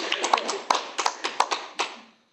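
A few people clap in short, irregular bursts at a casual talk-show gathering, with about a dozen distinct, close hand claps that trail off into quiet.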